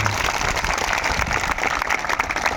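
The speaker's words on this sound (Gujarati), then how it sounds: "બધા જ માટે એકવાર જોરદાર તાળીઓ પાડી લઈએ" Loud, dense applause from an audience at a village meeting in Dabka, Sagbara, Narmada, with MLA Chaitarbhai Vasava, a steady wash of many hands clapping throughout with no talk over it.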